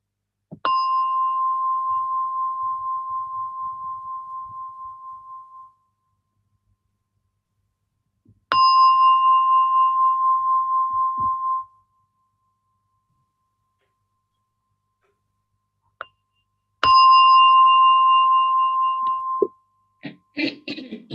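A meditation gong is struck three times at slow, even intervals, each stroke ringing out clearly and then fading over several seconds, close and alone with no talk.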